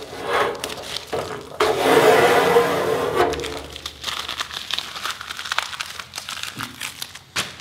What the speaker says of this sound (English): I'm just going to pull off this tape.